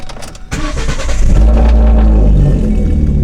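V6 Ford Mustang engine revving hard, a quiet idle that jumps after a half second into a loud, rough, sustained rev close by.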